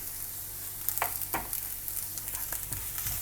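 Ginger garlic paste is stirred in a hot pan for a chicken toffee snack, sizzling steadily while a spoon scrapes and taps the pan in a few irregular strokes, close and alone with no talking.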